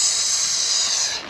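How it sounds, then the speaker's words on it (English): A steady, loud hiss of sizzling mud, broadband and continuous, fading slightly at the very end. "Can you hear the mud sizzling"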